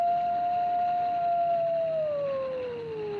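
A long, faint howl in a Nancy Drew mystery game set in snowy Canada, one sustained tone gliding slowly downward over a low background hum, with no talking.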